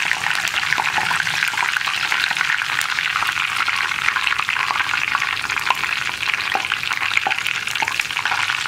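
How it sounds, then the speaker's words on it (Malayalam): Continuous close sizzling and crackling of curry leaves frying in hot oil, with small pops and faint stirring throughout. "ഇനി നമ്മൾ ഫ്രൈ ചെയ്യാൻ പോകുന്നത് നമ്മുടെ കറിവേപ്പിലയാണ്."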